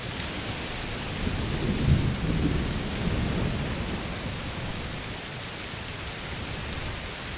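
Heavy rain pours steadily in A Plague Tale: Requiem, with a deep roll of thunder swelling around the second mark and fading back into the constant wash of rainfall, no voices present.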